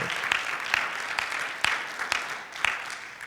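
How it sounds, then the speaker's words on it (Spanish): Steady applause from a church congregation, with scattered sharper claps standing out as the clapping continues for a few seconds at a moderate distance. "Puedes darle un aplauso de alabanza a Él"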